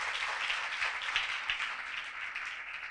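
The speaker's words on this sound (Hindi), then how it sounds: "जोरदार तालियां बजाएं" A steady wash of applause from a crowd, dense and continuous at moderate volume, with no distinct individual claps standing out.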